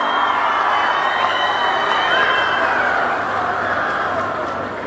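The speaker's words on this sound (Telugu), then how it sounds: "ఈ భూతం మనకు వద్దని గట్టిగా చప్పట్లు కొట్టి హర్షాన్ని, ఆమోదాన్ని తెలియజేయండి" An audience at Chief Minister Chandrababu's speech on the environment and plastic fills the space with crowd noise and cheering, a dense, lively din that slowly fades toward the end.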